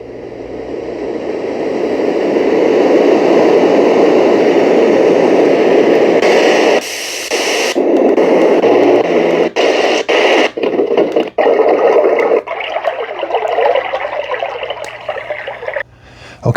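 Steady hissing static from an Easysleep Sound white noise machine fades in and holds loud and close, then shifts through several different noise tones with abrupt button clicks between them.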